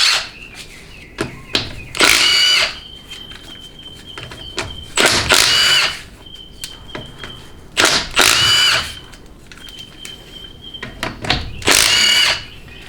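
Power tool, likely an impact wrench, running off the 1/2-inch pump bolts on a Ford C6 automatic transmission, an old unit decades in service. Four loud close bursts of about a second each, with quieter clicks and handling noises between them.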